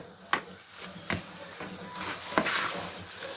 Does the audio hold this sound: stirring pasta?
yes